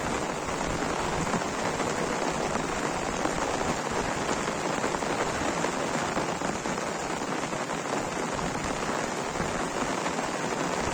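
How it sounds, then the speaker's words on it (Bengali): Steady rainfall on a farm area where fish are netted, a constant even hiss of drops striking ground and water, moderately loud and unbroken, with no talking. "বৃষ্টি পড়ছে।"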